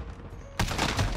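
A pistol fires in the Modern Warfare video game, with a sudden loud, sharp report arriving after a quiet lead-in and ringing out over a short noisy tail.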